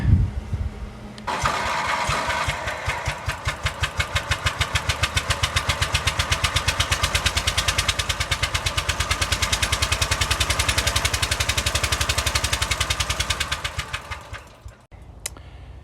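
The small engine of an old Lawn Chief lawn tractor sputters to life and keeps running with a rapid, steady putter and rattle for over ten seconds before cutting off abruptly.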